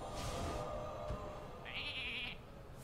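Sheep bleat from the Polymorph spell in the card game Hearthstone, a short wavering bleat near the middle, clear and close, set against busy game background sound.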